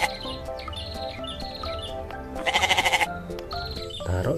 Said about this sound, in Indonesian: Di sini ada hewan kambing.